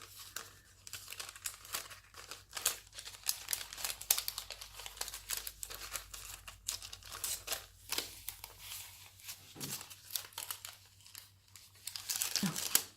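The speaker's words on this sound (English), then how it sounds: "So I'm protecting them in the little tracing paper bags." Tracing paper bags crinkling and rustling as they are handled and folded around journal pages, close and fairly quiet, in irregular bursts of crackling with brief pauses.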